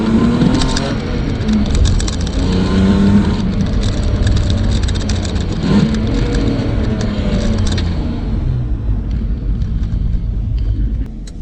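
A BMW E30 drives on the road with a loud, continuous engine rumble and road roar from inside the car, fading slightly near the end.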